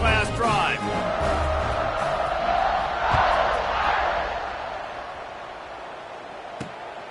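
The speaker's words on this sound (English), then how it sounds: "this crowd is feeling themselves after that last drive" Stadium crowd in a football video game roaring after a touchdown as the kickoff unit takes the field, a broad swelling cheer that peaks in the middle and slowly fades, with a voice speaking briefly at the start.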